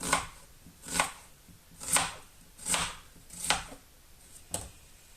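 Knife chopping vegetables on a board for a fry-up to go into pearl barley rassolnik soup, six evenly spaced sharp chops about one per second, close and clear with no talk.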